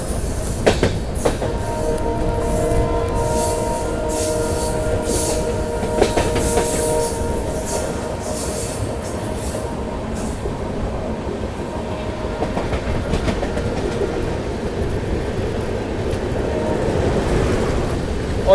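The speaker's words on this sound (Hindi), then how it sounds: "क्या शार्प टर्न है हवाई डबल डेकर एक्सप्रेस का, बहुत बेहतरीन टर्न" Diesel-hauled Double Decker Express rolling through a sharp curve near Ghaziabad station, a steady close rumble of wagons with rhythmic wheel clatter and faint flange squeal throughout, no talking.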